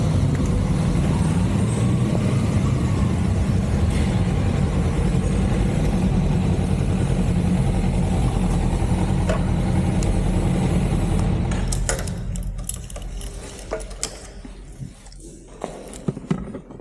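Heavy road traffic near the Siruseri IT park, a dense, loud rumble of car and truck engines that thins out and drops away toward the end, leaving scattered clicks and knocks.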